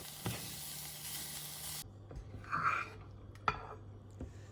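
Oil sizzles and hisses steadily in a pan as mushrooms and onions fry, with a couple of sharp clinks of a utensil against the pan.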